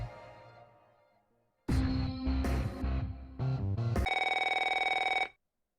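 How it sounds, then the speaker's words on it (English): Retro phone in the video game NeoFeud 2 ringing after a fading musical tail, a burst of electronic tones followed by a sustained bright trilling ring, loud and clean, with no talk. "That retro phone appears to be ringing."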